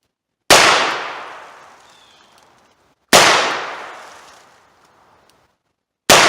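Revolver shots fired at a target: three loud, sharp gunshots spaced about two and a half seconds apart, each followed by a long fading echo, with near silence between.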